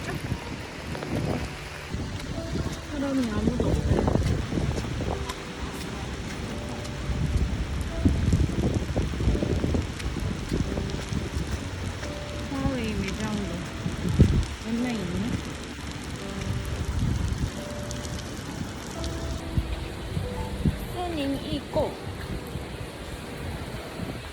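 Heavy rain and gusting wind from Typhoon In-fa sweep through a Shanghai street near a shopping mall and outdoor night market, a steady rushing roar with wind buffeting the microphone and faint voices underneath.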